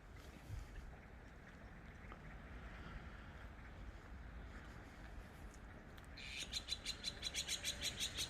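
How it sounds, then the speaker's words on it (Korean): Birds start chirping in a quick, repeated series of bright notes over a steady background rush of wind and water, at a traditional Korean hanok village. "새소리도 들리고 한옥집하고 진짜 그 어울립니다"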